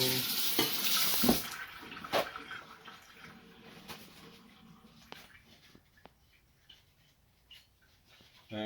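Cold water runs from a kitchen tap to rinse a utensil while fixing broken aioli, a hissing splash that starts loud and close, then fades to faint trickles and clinks.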